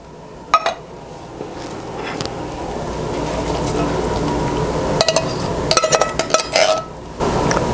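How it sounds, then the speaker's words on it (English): Two cans of drained whole kernel corn tipped into a pot of cooked chicken for Mexican chicken corn chowder: metal clinks and scraping of a can against the pot, then a spoon stirring, with someone talking over it. "now I'm going to add my 2 cans of corn that I have, the whole kernel corn"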